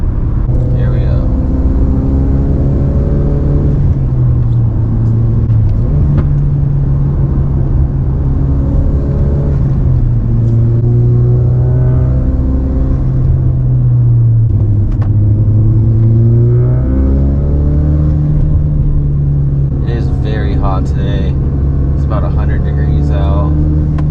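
A modified Ford Focus RS engine drones steadily and climbs in pitch through several gear changes on a back road, with talking over it much of the time.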